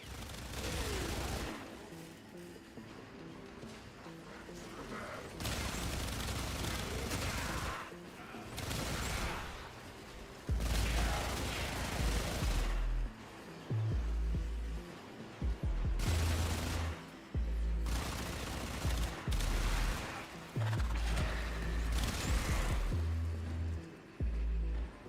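Gunfire and explosions burst from a Warframe battle, rapid volleys and blasts arriving in loud clusters separated by short quieter gaps, with faint voices now and then.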